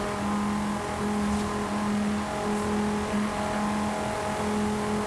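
A Dodge car engine and exhaust hums steadily at idle, a close, even low drone with a faint whir above it and no talking.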